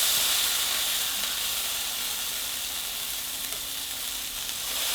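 A burger patty sizzles hard in a hot pan as it is pressed down with a spoon, a loud, steady frying hiss that runs without pause and no talk over it.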